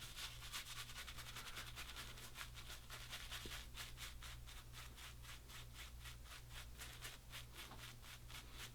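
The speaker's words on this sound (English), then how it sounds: "go right in and just start swirling it." A shaving brush swirls lather in a bowl before a Muhle R41 shave, giving a steady, fast rhythmic scrubbing and rubbing that runs continuously and close, with no talk over it.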